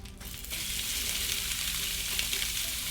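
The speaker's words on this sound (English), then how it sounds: "you're gonna sear the steak in a little bit of oil." A steak sears in a little oil in a skillet heated in a 450-degree oven, making a loud, steady, close frying hiss that swells just after a brief quieter start and holds throughout, with no one talking.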